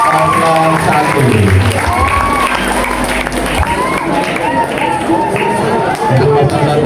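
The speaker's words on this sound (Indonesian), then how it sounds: "Boleh tepuk tangan sekali lagi." Applause and crowd noise at a school student council election debate in Jakarta, loud and continuous with chatter, shuffling and background music or sound blending under the clapping.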